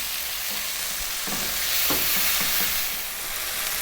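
Tomatoes cooking over lively heat in a pan for a vegan potato curry, a steady broadband sizzle with a few soft stirring scrapes, alone and fairly close.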